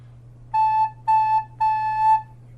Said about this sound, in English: A solid sound on re.